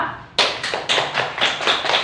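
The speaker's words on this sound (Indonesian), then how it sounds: "Kita berikan tepuk tangan" A small group claps at a school lesson, a short burst of about seven distinct sharp claps in an uneven rhythm, close and alone.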